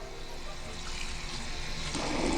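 Running water from a school sink tap rinsing soap off hands, a soft, steady splash and trickle that grows a little louder at the end.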